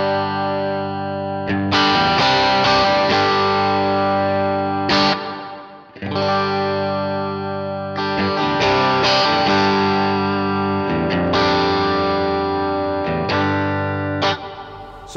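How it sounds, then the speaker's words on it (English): Electric guitar played through a Neunaber Seraphim pedal in its regular reverb mode, loud sustained chords with a smooth tail washing behind each strum, several phrases with brief pauses, no talking. "let's go back to the regular reverb mode, put the depth and the mix at 12 o'clock, and let you hear what that sounds like"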